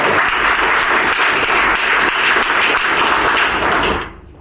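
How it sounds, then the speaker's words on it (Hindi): A group at a welder qualification test session claps for a man named Tanveer, a loud, close round of applause that holds steady and then cuts off abruptly. "तनवीर भाई के लिए एक बार तालियां हो"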